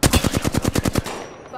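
Automatic gunfire from the Apex Legends video game: a rapid burst of about nine loud, close shots over one second, then a fading tail.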